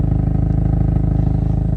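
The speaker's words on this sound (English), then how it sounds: "You can hear that exhaust going down here as well." Close, steady exhaust note from a 2021 Hyundai Veloster N in its sportier drive mode, a loud, even pulsing drone with a low rumble throughout and no voices.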